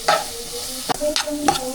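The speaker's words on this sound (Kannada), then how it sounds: "ಚೆನ್ನಾಗಿ ಫ್ರೈ ಮಾಡ್ಕೋಬೇಕು." Pasta sauce frying in a pan: a constant sizzle with three or four quick scraping stirs of a spoon, close and moderately loud, with no voices.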